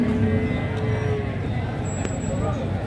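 A cow moos at a cattle market, one long low call early on over steady crowd noise while someone talks nearby.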